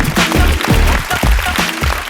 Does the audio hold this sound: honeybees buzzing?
no